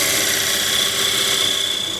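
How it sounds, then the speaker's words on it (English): Spindle gouge cutting a wooden tray spinning on a lathe, a continuous close, loud scraping hiss with a steady tonal whine from the machine, no voices. "So this is again spindle gouge"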